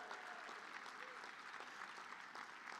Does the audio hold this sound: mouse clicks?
no